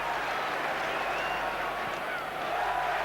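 A football crowd at Millwall v Wolves in December 1994 keeps up a dense, sustained roar mixed with applause and cheering, loud and continuous from start to finish.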